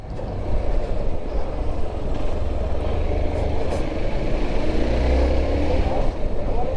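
A Hero Xpulse 200 4V Pro Rally Edition motorcycle is being ridden, with a continuous loud low engine and road rumble plus wind buffeting and no clear gear changes, heard from the rider's position.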